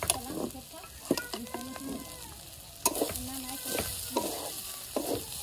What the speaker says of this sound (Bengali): আমি রান্না করছি